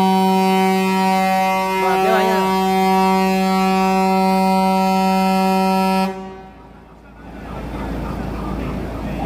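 A loud, steady siren blares at a Bilbobus transit workers' protest in Bilbao, holding one tone for several seconds before cutting off abruptly, leaving crowd noise and street ambience behind.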